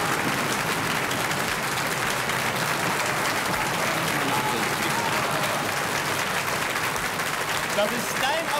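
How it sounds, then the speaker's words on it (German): A TV show audience applauds a performer named Jobi with sustained, dense clapping that stays steady and loud throughout, with a few voices mixed in. "Das ist dein Applaus, Jobi, dein Applaus."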